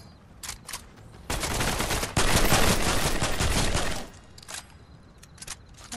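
Video game gunfire, a sustained loud burst of rapid automatic shots lasting a few seconds, preceded and followed by scattered single shots, heard close up.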